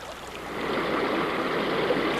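A river flowing beneath a drifting raft in early Canada, a steady broad wash of moving water that swells slightly after the start, with a sharp bump or splash at the very end.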